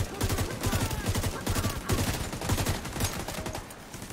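Rapid gunfire bursts from The Division 2 video game, dense overlapping shots and fusillades in quick succession, loud and continuous throughout.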